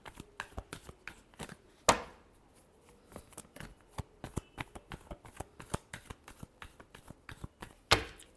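Tarot cards being shuffled by hand: rapid, close, crisp riffling and flicking clicks in uneven bursts, with a few louder slaps of the deck, heard alone without talk.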